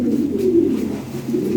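Yellow Lahori pigeons cooing close by, a steady, loud low coo that continues through the whole moment with no talking over it.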